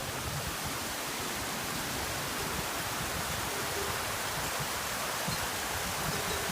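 A mountain torrent rushes through alpine pasture near the Col de la Seigne on the Tour du Mont Blanc, a dense, unbroken roar of flowing water that stays loud and even throughout.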